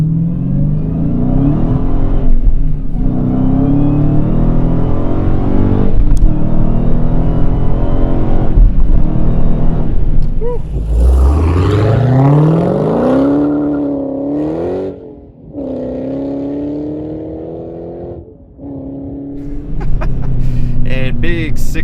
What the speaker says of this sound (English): we'll do a little bit of a harder acceleration